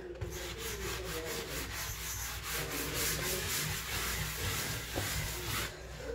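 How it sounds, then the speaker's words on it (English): An old bathtub coated in soap scum is sanded by hand in steady, rhythmic back-and-forth strokes, a soft gritty rasp that is close but fairly quiet. "that's why I'm sanding"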